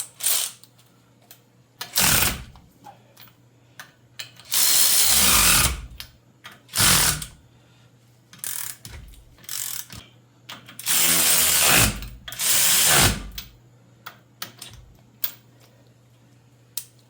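A power tool drives bolts during a ball joint replacement on a K5 Blazer, several close, loud whirring bursts of one to two seconds each separated by quiet gaps and small clicks of handling.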